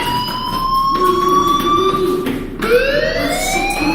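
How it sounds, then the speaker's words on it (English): Fire alarm sounding in the video game Life is Strange, a loud continuous electronic wail that holds steady, drops off briefly, then sweeps back up in pitch. "Hey, do you hear that fire alarm?"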